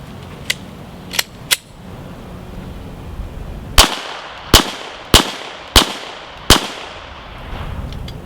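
Five sharp, loud gunshots from a Glock pistol fitted with a Lone Wolf 9mm conversion barrel crack out in quick succession, each with a brief decay, preceded by a few lighter clicks and taps.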